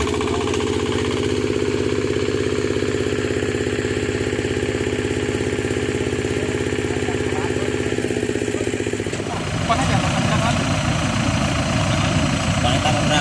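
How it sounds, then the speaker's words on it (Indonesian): A modified three-wheeled vehicle fitted with a dompeng engine runs loud and close on a damaged, muddy road in rural Aceh Tamiang, chugging steadily before the tone shifts to a rougher, harsher rattle near the end. "masyarakat menggunakan sebuah kendaraan roda 3 yang telah dimodifikasi menggunakan mesin dompeng"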